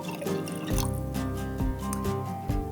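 Water pours into a mix of mirin and tamari soy sauce, a steady liquid stream running close under loud, tonal background music with no talking.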